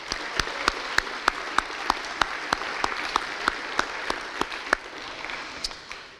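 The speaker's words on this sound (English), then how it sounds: "How about another round of applause for all of our great city employees?" An audience at the Orem State of the City event applauds city employees, with a steady bed of clapping and sharp individual claps that fade toward the end.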